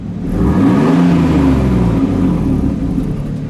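A black 1998 Toyota Supra Turbo engine revs up with a rising, rumbling whine, then settles back down while still running loud and close.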